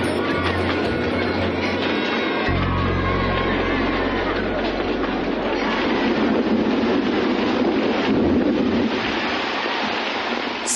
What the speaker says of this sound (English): The royal couple amaze onlookers by taking a ride on a miniature railway.